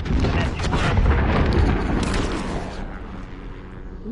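Heavy gunfire rings out in Call of Duty on PS5, a loud burst of booming shots that rolls out and fades over a few seconds, with a voice faintly under it.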